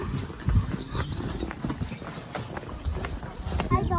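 Donkey hooves clip-clopping on the streets of a medieval Spanish village, a steady uneven patter of hoof strikes close by, mixed with background voices and street noise.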